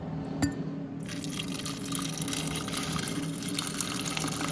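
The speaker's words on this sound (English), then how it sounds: "I'm going to pour mine over some ice into my little tea pitcher" Hot herbal tea streams steadily over ice into a small pitcher, a continuous close splashing pour with a faint crackle of ice throughout.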